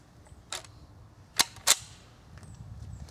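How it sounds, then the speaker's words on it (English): An old .22 rifle fires at a distant target with open sights: two sharp, close cracks in quick succession, preceded by a fainter click, over quiet outdoor background. "let's see where this little rifle is hitting at that distance"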